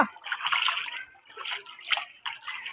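Footsteps wade through stagnant, foul-smelling flood water deep enough to hide the feet, each stride a soft splash and slosh coming in irregular bursts close by.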